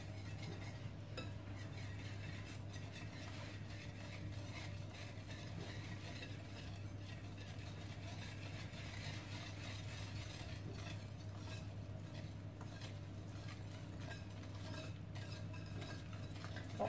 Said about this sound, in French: Et je vais venir tout mélanger ensemble, donc au fouet délicatement.